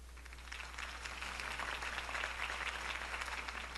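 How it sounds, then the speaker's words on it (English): Crowd applause from a political rally for Harvey Dent in the Telltale Batman game, a steady wash of clapping at moderate distance, fairly faint and continuous, with no voices over it. "If only Mr. Wayne, my campaign's largest backer, could have heard that applause"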